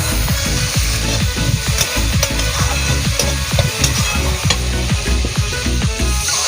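Spices sizzle and fry in hot oil for a Bengali gule fish curry while a spoon stirs and scrapes the pan in a steady rhythm, close and continuous without talk.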